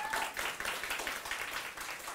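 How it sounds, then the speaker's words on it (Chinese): An audience at a talk applauds the director, a short burst of fairly faint, quick clapping that lasts a couple of seconds. "我们给主任鼓掌一下"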